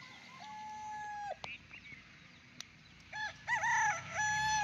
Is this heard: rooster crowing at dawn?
yes